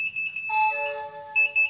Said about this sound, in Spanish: Dice que la temperatura está demasiado baja, por eso se pone con la alarma.